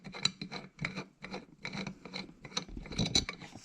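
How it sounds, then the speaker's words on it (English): A clamp is unscrewed and taken off a wooden workpiece, a series of short rubbing, rasping turns of the screw in an irregular rhythm, close and fairly quiet. "I'm going to take one clamp off"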